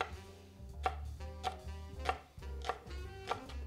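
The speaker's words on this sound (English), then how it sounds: "Cut off a good slice of that onion" A knife chops an onion on a cutting board in about six evenly spaced, crisp strokes, close and distinct with no talk.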